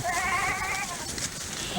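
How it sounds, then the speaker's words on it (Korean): Several goats bleat in a summer mobile barn holding hundreds of dairy goats, overlapping wavering cries close by against a busy herd background, with no talk. "여름 한철 방목을 위해서 건설해 놓은 것인데 수백 마리의 염소들이 있습니다"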